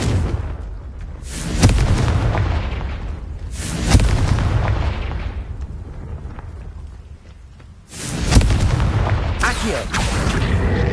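Blasting spell explosions in the wizarding video game Hogwarts Legacy: three loud booming bursts, each with a broad rumbling tail, spaced a few seconds apart over background game ambience.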